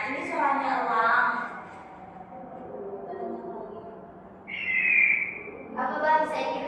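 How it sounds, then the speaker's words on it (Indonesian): A recorded eagle call plays in a classroom lesson about animals: high, drawn-out whistling cries, one long and wavering, then a shorter sliding screech, with people talking around them. "Nah, ini suaranya elang."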